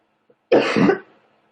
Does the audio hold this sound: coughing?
yes